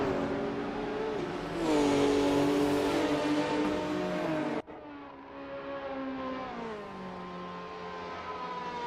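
GT500 race cars, an NSX, GTR and Supra, racing at Suzuka in a video game, with loud sustained engine drone that rises and shifts pitch, cuts abruptly and then resumes as the cars run close together.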